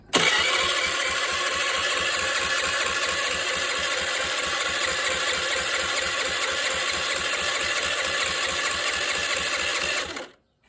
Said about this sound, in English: She doesn't want to start up.